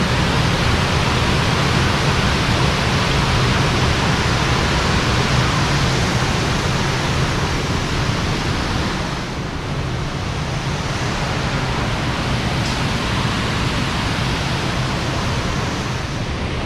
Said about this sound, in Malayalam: ഇപ്പോൾ ഡാം തുറന്നിരിക്കുകയാണ്. നല്ല രസമാണ്, വെള്ളം ചാടുന്നതാണ്.